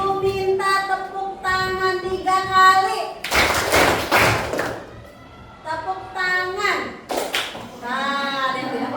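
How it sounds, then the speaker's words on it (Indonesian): Children in a classroom clap their hands in sharp bursts between a woman's spoken instructions, the claps loud and close, alternating with her voice. "ibu minta tepuk tangan 3 kali"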